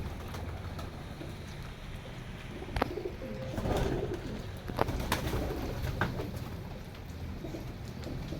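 Teddy pigeons coo softly at close range in a few low, rolling calls over a steady background hiss, with no talk.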